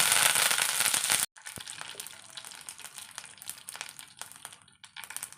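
Mustard seeds, broken dried chillies and curry leaves crackle and spit in hot oil, first as a loud, hissing burst, then after a short gap as a steadier close-up popping and sizzling.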